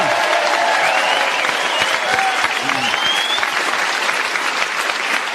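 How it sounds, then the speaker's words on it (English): A studio audience at the panel game Just A Minute gives the winner loud, sustained applause, thick clapping throughout with a few whoops and cheers rising over it. "A round of applause, our winner."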